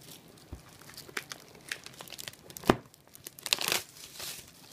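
The plastic wrapper on a basketball trading card box, Panini Court Kings 2015-16, crinkles and tears in close, quiet bursts of scattered crackles, with a louder rip near the middle.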